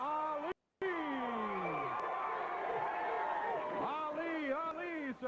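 A wrestling arena crowd chants Ali, a rising, swelling roar of many voices with whoops and cheers, loud and sustained after a brief dropout.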